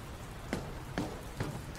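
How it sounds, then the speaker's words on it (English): Soft, steady rain falls in a whirlwind heist video game, a faint even hiss with a few distinct drip-like taps spaced through the short stretch. "I don't think it's supposed to still be raining"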